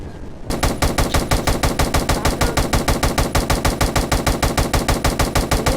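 A minigun firing in a Roblox game, one long loud unbroken stream of evenly spaced rapid shots that starts abruptly and carries on to the end.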